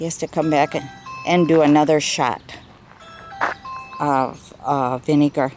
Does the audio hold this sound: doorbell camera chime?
yes